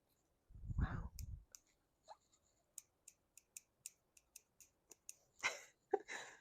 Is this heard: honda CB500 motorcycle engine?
no